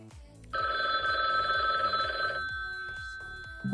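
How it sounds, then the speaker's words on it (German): Telephone bell ringing in a steady electronic trill, a single sustained burst of a couple of seconds that then stops, fairly clear and close with faint background sounds. "Telefon!"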